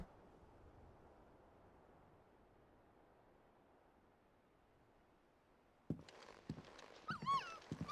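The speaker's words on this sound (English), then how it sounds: "look at little puppy Torgal" A young dog from the Final Fantasy XVI video game makes a few short whimpering, yipping sounds close by, breaking in suddenly after several seconds of quiet background hum.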